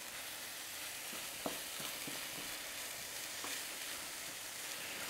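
Chicken and vegetables simmer in a hot pan, a steady dense sizzling hiss with a few soft clicks and stirring knocks, close and alone.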